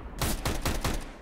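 Rapid Tec-9 pistol shots in a Counter-Strike match on de_nuke ring out as four loud, closely spaced bangs in quick succession.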